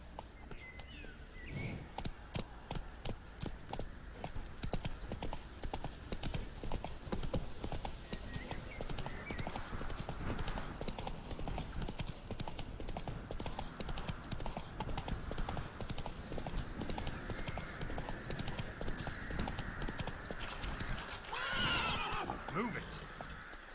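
Roach, a horse in The Witcher 3, gallops with steady rapid clip-clop hoofbeats throughout and whinnies, while a voice talks over the running.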